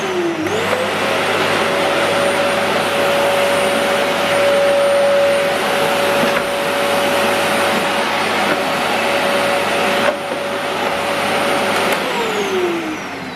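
Goodmans Turbomax vacuum cleaner switched on, its motor whining up to a steady loud roar with a high tonal hum that holds for about twelve seconds before winding down, with no talking over it.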